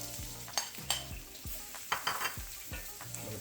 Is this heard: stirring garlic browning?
yes